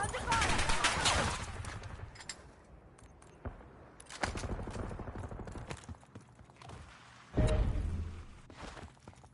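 Gunfire in the video game Warzone, several loud bursts of rapid shots in separate clusters, mixed with game voice announcements and other in-game noise.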